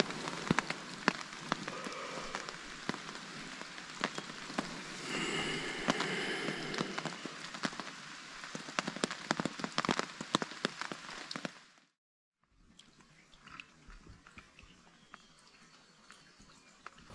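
Rain patters steadily on a hammock tarp at a backcountry lakeside camp in Algonquin Park, with dense close drops and a brief gap before softer rain resumes.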